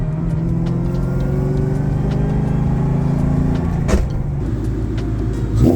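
A Ford SVT Cobra idles and runs steadily on a freshly fitted exhaust, a continuous low engine rumble throughout with a brief blip near the end.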